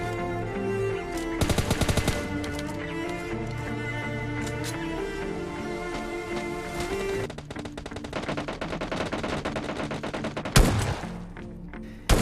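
Gunfire in a PUBG Mobile Lite battle: bursts of automatic fire and single shots, some near and loud, others farther off, continuing through the whole stretch without speech.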